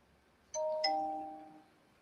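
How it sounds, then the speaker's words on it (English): A Twitch ding-dong notification chime plays once, a clear two-note electronic doorbell-style tone ringing out and fading over about a second against a quiet background. "What was the ding dong notification?"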